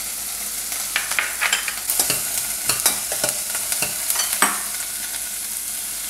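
Mixed vegetables and cinnamon sauté in a pan for a Kerala curry to go with chapati, giving a loud sizzle broken by repeated scraping stirs of a spoon, with no talking.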